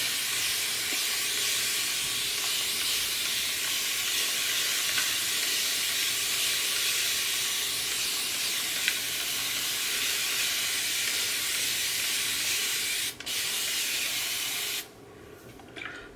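A mist bottle sprays water onto natural hair for deep conditioning, giving a long, steady, close hiss that runs nearly unbroken and then cuts off near the end.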